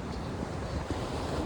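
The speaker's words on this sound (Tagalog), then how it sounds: "Ang lakas ng alon." Strong ocean waves along a coastal road in Davao City roll as a continuous broadband wash of surf mixed with wind rumble, steady and fairly close for a brief stretch with no talking.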